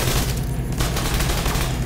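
Rapid sustained turret gunfire in the video game Tom Clancy's The Division 2, a loud dense burst of shots filling the whole moment without pause.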